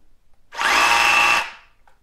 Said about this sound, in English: what it sounds like when it's in hammer mode